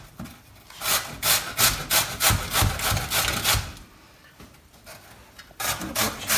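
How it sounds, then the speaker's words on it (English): Cucumber rubbed back and forth across a coarse, chunky cheese-grater setting, giving repeated rasping strokes in a steady rhythm, close and fairly loud, with a short pause before the strokes resume. "Finished grating the cucumber, and it's all on the towel, ready to be squeezed out."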